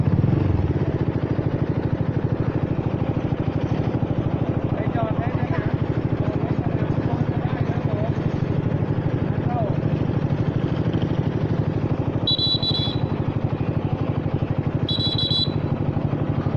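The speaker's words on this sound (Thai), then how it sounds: "เสียงเครื่องดีกว่าเดิมเยอะเลยฮะ" Honda Forza 300 scooter engine running steadily at idle or low speed, a continuous low hum throughout with background street bustle, under faint voices.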